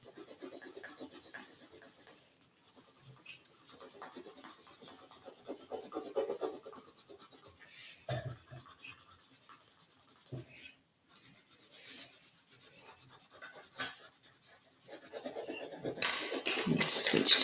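Coloured pencil shades a toucan's beak on paper, giving soft intermittent rasping and rubbing strokes, close and faint, with a louder scratch near the end.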